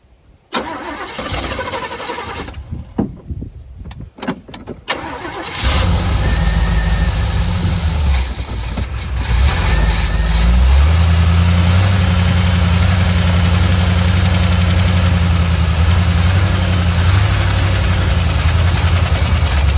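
A 1985 Chevy C10 square-body pickup with a flooding engine cranks in loud choppy bursts, then catches and roars up into a heavy, steady rumbling rev that holds close to the mic.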